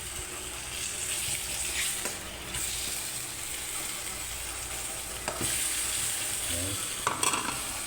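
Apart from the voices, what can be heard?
stirring potatoes frying in a pan for adobong manok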